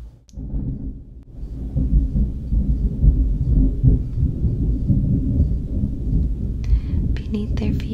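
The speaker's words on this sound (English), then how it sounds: "It's gonna thunder again in a second." Deep, rolling thunder rumbles loudly and steadily for several seconds as a storm backdrop, with a few faint crackles near the end.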